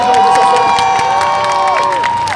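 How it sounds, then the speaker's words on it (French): A crowd at a concert at Made In Asia 2019 claps and cheers loudly and steadily, with bright whoops and a sustained tone ringing over the noise. "Donc on l'applaudit s'il vous plaît"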